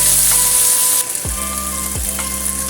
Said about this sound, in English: Stir fry the beef tendons.